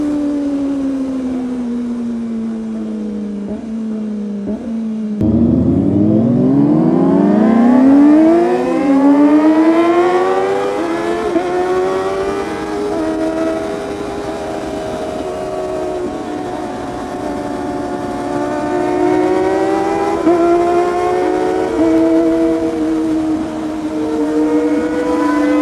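A Kawasaki ZX25R motorcycle fitted with a full exhaust system revs hard and close, its shrill four-cylinder wail climbing steeply, then holding high and wavering through repeated throttle swells, loud and continuous with no talking.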